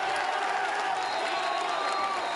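Students in a high school boys' basketball crowd cheer steadily, a dense, bright roar of many voices with no breaks.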